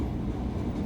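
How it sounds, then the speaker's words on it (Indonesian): A KRL commuter train passes close by on a double-track line east of Bekasi in West Java, a steady low rumble of rolling wagons filling the short moment without any talk. "Nah ini kita berpapasan dengan KRL"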